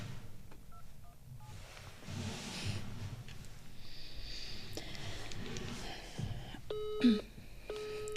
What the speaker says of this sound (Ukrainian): Я набираю, да?